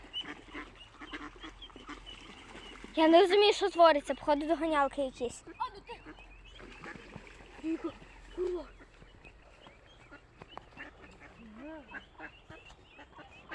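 A burst of loud duck quacks, then quieter scattered calls and rustling, with a person speaking over the scene near a capybara.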